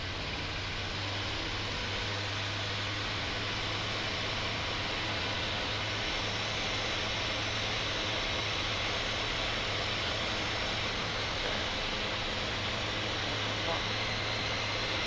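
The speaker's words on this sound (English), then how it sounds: "Okay, full power, Brian." Eurofox microlight aircraft engine running at full power for takeoff, a loud, steady propeller drone with continuous wind rush that holds throughout, heard from inside the cockpit.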